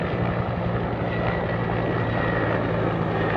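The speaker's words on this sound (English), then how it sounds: "Oh, look at that helicopter go by." A helicopter passes over Washington, DC near the Jefferson Memorial and Washington Monument, its rotor and engine making a steady, fairly loud droning whir that holds evenly across the stretch.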